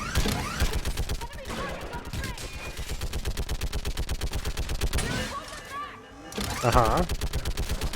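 Rapid automatic fire from a mounted gun in the video game Mass Effect 3: a steady, fast stream of shots that breaks off briefly and then resumes, with players talking over it.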